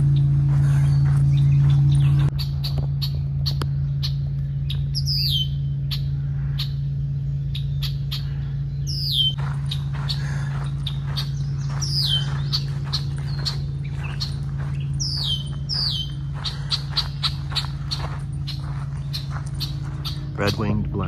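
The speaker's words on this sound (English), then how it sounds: "Red-winged blackbird." Red-winged blackbird calling along the Gull Point Trail at Presque Isle State Park, several sharp, rising chirps and trills repeated at intervals over a steady low hum, moderately close.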